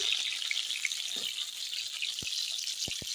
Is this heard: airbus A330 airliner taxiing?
no